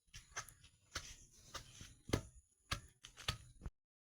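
Sharp, irregular knife chops on a board as dried chili peppers are cut finer for a vada recipe, about a dozen quick, close taps with short pauses between them.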